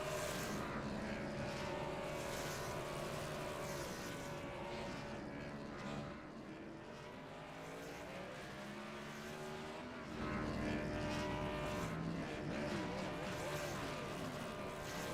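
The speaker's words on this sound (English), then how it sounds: "Little celebratory burnouts there from our race winner." A race winner's car doing celebratory burnouts in a racing video game at New Hampshire, a loud continuous engine roar with rising and falling revs and tire squeal, drowning out any other sound.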